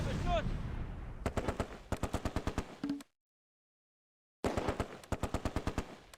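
Bren light machine gun firing in the Close Combat war game, Operation Market Garden setting, sharp rapid bursts of evenly spaced shots, a long burst, a pause of silence, then another burst, loud and close.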